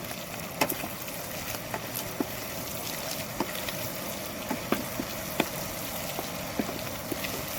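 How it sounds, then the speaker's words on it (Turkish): Kapya red peppers sizzle steadily in a pan while being stirred, with a constant frying hiss and scattered small clicks and scrapes of the utensil. "Bir karıştırıyorum kapya biberimle."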